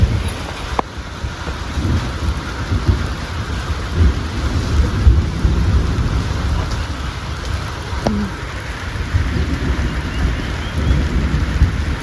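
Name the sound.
heavy rain with thunder in the mountains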